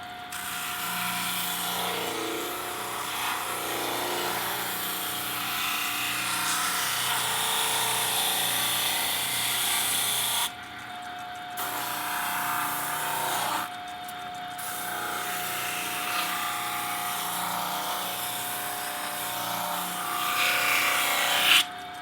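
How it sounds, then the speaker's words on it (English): A power sander grinds across 7-ounce leather piping to level it, a loud continuous rasping hiss that cuts out briefly twice before resuming. "It'll be easier to get this fully leveled out just on the power sander."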